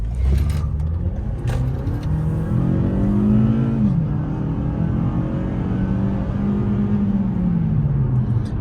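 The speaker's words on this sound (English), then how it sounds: "When you get on the gas, the front wheels will lift up and you'll peel out a little bit." A 2021 Toyota Camry SE engine roars and rises in pitch as it accelerates hard, a steady loud rumble with the revs climbing and easing, no voices.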